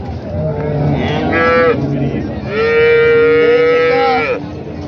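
Jersey heifers moo loudly and close at a livestock market in Jagraon, two long drawn-out calls with faint background murmur.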